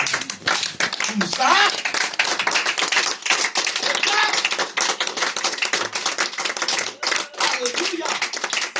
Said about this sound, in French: Est-ce qu'il nous est capable d'applaudir bien fort?